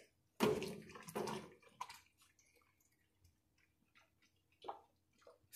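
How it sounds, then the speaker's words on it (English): Home brew being stirred in a pot, two loud sloshing swirls of liquid up close followed by quieter drips and a final splashy stir. "Okay, stir that in."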